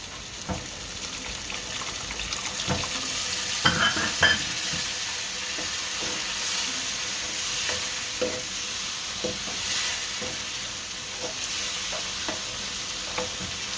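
Water poured into a pan of stuffed onion curry (bhareli dungri nu shaak) while it is stirred, a sustained sizzle and bubbling with repeated scraping strokes of a spoon, close and continuous, no voices.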